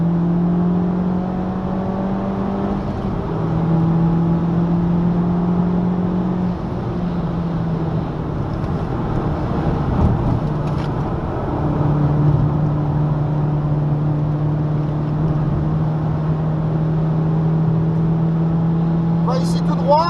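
A car driving at speed around the Spa-Francorchamps circuit, its engine droning at a steady pitch that shifts through a few gear changes, heard from inside the cabin under a continuous rushing noise.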